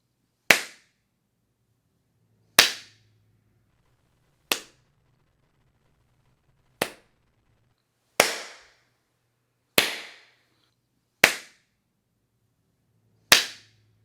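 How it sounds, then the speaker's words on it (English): Single sharp hand claps in a small room treated with Primacoustic London acoustic panels, eight isolated claps spaced about one to two seconds apart, each decaying quickly into near silence. "let's do a clap test"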